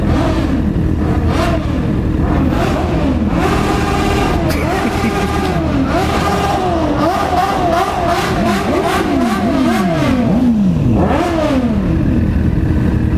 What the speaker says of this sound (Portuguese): Os caras é louco, acelera na frente da fiscalização de trânsito.